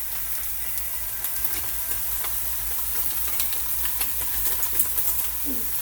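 Ground turkey sizzles and crackles in a hot pan, with scattered stirring scrapes over a low steady hum.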